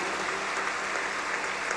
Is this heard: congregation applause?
yes